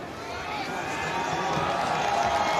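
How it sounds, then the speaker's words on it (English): A sellout crowd at Marquet Stadium rises to its feet cheering during a college football semifinal, Kutztown against Colorado School of Mines, a steady broad roar that swells slightly and holds throughout. "this sellout crowd inside Marquet Stadium showing their appreciation as they come to their feet"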